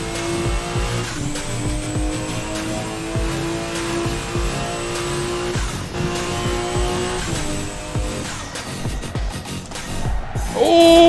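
A Honda street car with VTEC accelerates hard in the Assetto Corsa racing game, its engine note climbing through the revs alongside tire squeal, loud and continuous throughout.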